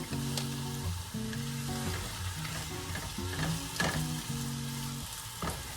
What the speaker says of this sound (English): we're going to cook for just a minute or so until our greens wilt and that zucchini starts to soften